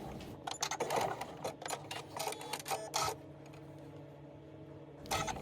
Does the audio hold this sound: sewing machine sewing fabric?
yes